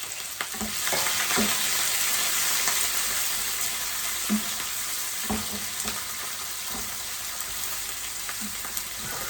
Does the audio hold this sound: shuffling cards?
no